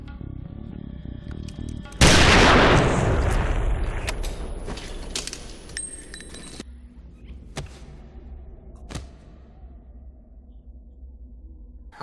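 A single loud gunshot bursts out in a Fight Club film scene where a man shoots himself in the mouth, a sharp blast with a long fading tail, followed by quieter scattered mechanical clicks.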